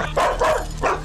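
A dog barks in a few short bursts, close and fairly loud, in a household scene from a Hindi romantic film.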